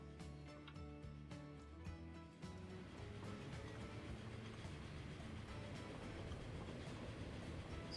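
A train runs along the track in the video game Transport Fever 2, a faint, steady rumble with soft rhythmic clatter of wagons, holding level over several seconds.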